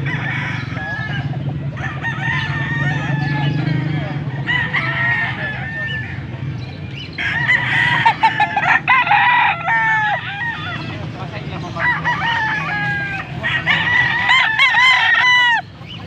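Young gamecock stags crow repeatedly in long, loud bursts with clucking between them, several birds close by in a pen, with no talk over them.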